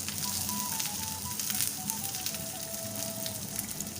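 Onions, curry leaves and chillies fry in coconut oil for a Kerala beef roast, a continuous crackling sizzle heard up close with no talking.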